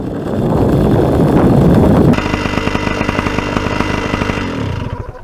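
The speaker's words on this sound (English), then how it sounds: "Just going through my warm-up process again, making sure the engine's nice and warm, ready to go." A paramotor engine warms up in strong wind: loud gusty wind roar with a rough engine underneath, then a steady throbbing idle with rhythmic pulsing continuing close to the microphone before it tapers at the end.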